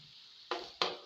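Chicken tawa cooking in a pan gives a steady faint sizzle, then two sharp louder hissing bursts close together near the end.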